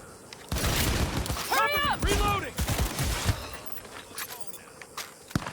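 Smart pistol fire in Cyberpunk 2077 during a combat mission: a rapid burst of close, crackling shots with whistling, swooping tracking tones, then scattered impacts and clatter, while a voice speaks underneath.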